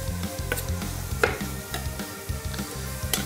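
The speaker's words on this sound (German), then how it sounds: "Mein Zucker-Ingwer-Wasser kocht sich jetzt langsam ein." Sugar-ginger water for homemade lemonade simmers in a pot while being stirred, giving a continuous close bubbling sizzle with rhythmic scraping strokes and a few sharper clinks.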